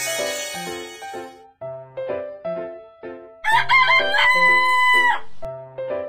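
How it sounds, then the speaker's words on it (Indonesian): A rooster crows loudly and close, a long drawn-out cock-a-doodle-doo ringing over layered harmonic tones and rhythmic background notes. "Ayam jantan"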